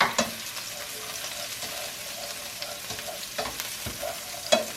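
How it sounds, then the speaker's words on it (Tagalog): Garlic sautés in a pan, being stirred for ginisang upo at giniling: a steady close sizzle runs throughout, with sharp scraping stir clicks and clatters at intervals. "Hulog natin ang bawang."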